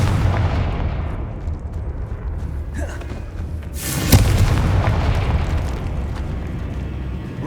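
A Confringo blasting spell in Hogwarts Legacy detonates with a sudden booming burst that rumbles and settles into a lingering low roar.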